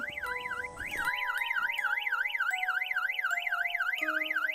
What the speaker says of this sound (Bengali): হঠাৎ আমার গাড়ির অ্যালার্ম বেজে ওঠে।